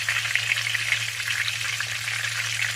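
A pork chop frying in very hot oil, a steady, dense sizzle with small pops and crackles, close and constant throughout with no talking.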